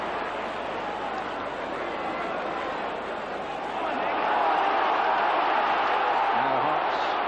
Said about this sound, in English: the roar of the Tynecastle crowd behind them